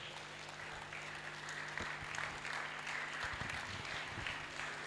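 An audience claps at a children's book launch, a dense, continuous wash of applause that holds steady throughout, with a few low thumps beneath it.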